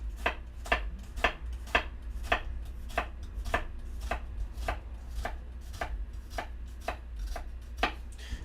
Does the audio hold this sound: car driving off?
no